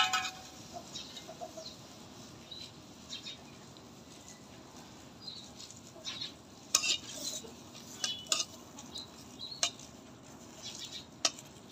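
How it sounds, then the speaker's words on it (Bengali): Loitta dried fish sits in a hot wok. A quiet, continuous crackle runs under intermittent metallic scrapes and taps as the pieces are stirred. "তো এরকম করে 2-3 মিনিটের মতো আমি এগুলি ভেজে নিব।"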